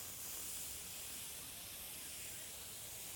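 Lime juice hits a hot pan while an eggplant pan sauce is being made, giving a steady, even hiss and sizzle that holds at a constant level for a few seconds, close but fairly soft, with no talking.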